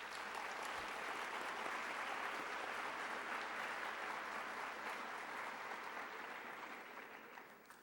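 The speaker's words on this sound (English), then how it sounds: "give them a round of applause" A lecture audience gives a steady, dense round of applause for committee members standing at a university lecture series event, the clapping continuous and even for about eight seconds before gradually tapering off.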